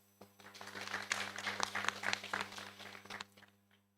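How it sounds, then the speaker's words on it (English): An audience at an evening memorial law lecture breaks into applause: scattered clapping swells to a full round and then fades, over a low steady hum in the hall. "And so I think you too deserve a round of applause."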